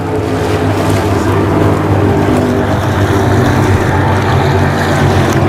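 Offshore superboats race on Lake Macquarie during an Australian championship, a loud, constant engine roar with wind and water noise that holds steady throughout.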